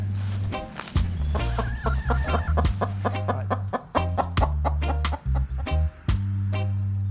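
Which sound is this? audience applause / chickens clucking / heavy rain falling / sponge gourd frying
chickens clucking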